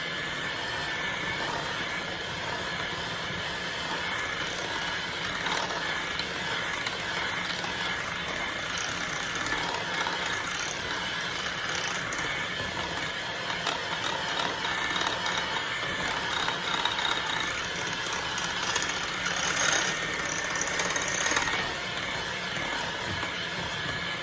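Electric hand mixer whirring through sweet potato pie filling in a bowl, a steady mechanical buzz with faint rattling and clicks, moderately quiet and continuous with no talk.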